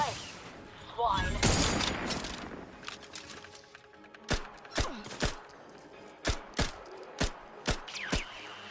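Gunfire in the video game The Outer Worlds: an early burst of rapid shots, then a string of about ten sharp, evenly spaced single shots ringing out close and loud, with brief talk near the start.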